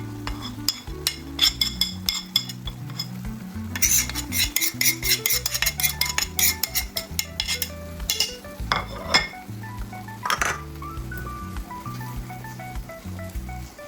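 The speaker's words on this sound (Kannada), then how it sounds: "ಚೆನ್ನಾಗಿ ಮಿಕ್ಸ್ ಮಾಡ್ಕೊಳ್ಳೋಣ." A utensil clinks and scrapes against a pan while masala for egg curry is stirred, with rapid, irregular metallic taps and clatters, moderately near and with no talking.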